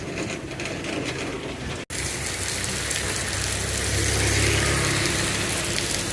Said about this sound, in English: And unfortunately it's raining on me